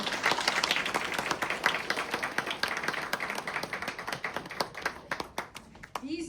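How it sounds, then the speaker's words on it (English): A ceremony audience on National Vietnam War Veterans Day breaks into steady applause, many hands clapping in a brisk, close, continuous patter that holds throughout without speech. "How about a round of applause for them, everybody?"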